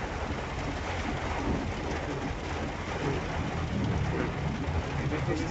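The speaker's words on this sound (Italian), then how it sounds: "Adesso grandina meno." Hail and rain pelt a Ford Ranger in a steady, dense patter, heard from inside the vehicle, with a low continuous rumble beneath the drumming.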